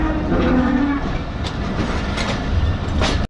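A train on the Quetta to Chaman line in Balochistan rumbles along the track near Bostan, with a loud steady roll and rhythmic clickety-clack heard from on board.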